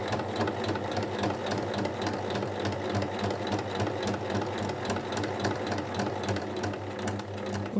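Sewing machine running continuously while topstitching a shoulder strap onto a lined tote bag, a close, steady mechanical hum with fast rhythmic needle pulses throughout.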